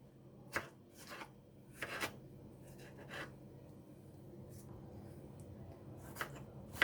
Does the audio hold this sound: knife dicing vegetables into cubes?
yes